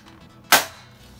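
Spring-powered M4A1 airsoft rifle fired once, a single sharp close crack with a short decaying tail over a quiet background.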